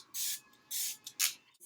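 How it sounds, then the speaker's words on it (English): Smashbox primer water misted onto a face from a pump spray bottle, three close, crisp hissing sprays with short pauses between, then a fainter fourth puff. "So what you're going to do is go ahead and spray it all over your face."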